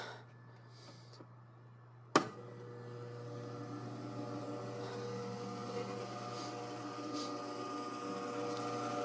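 Pump transferring syrup out of a big tank runs with a steady low mechanical hum and drone after a sharp click near the start, continuous and moderately faint throughout with no talking.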